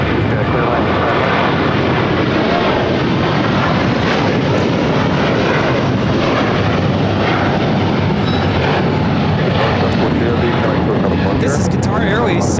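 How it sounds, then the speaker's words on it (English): A Qatar Airways Airbus A350-1000 takes off at LAX with a loud, continuous jet engine roar that fills the whole stretch, steady and powerful, with talk faintly underneath. "This is Qatar Airways 742 taking off to Doha on the A350 1000."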